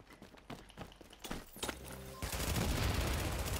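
Gunfire in the video game Tom Clancy's The Division, a string of sharp single shots building into dense, sustained rapid fire that grows louder and fills the second half.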